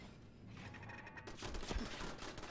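Automated turrets open fire on Mirelurks in Fallout 4, a dense burst of rapid gunshots rising out of the game's background noise and rattling on at moderate loudness.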